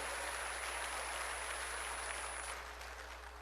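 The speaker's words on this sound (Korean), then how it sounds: "박수 치라." A church congregation clapping hands during a worship service, a steady continuous wash of clapping heard from a distance, fairly faint, with a constant low hum beneath it.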